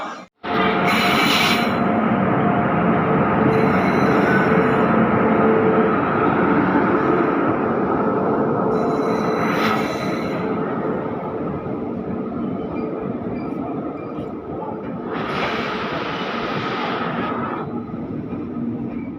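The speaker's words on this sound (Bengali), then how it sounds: "পিছনে চলে আসলো নিউ দিল্লিগামী রাজধানী এক্সপ্রেস" The Dibrugarh–New Delhi Rajdhani Express pulls into a station platform with a loud, steady rumble of wheels and carriages. Several bursts of hissing brakes and wheel squeal break in, and no one speaks.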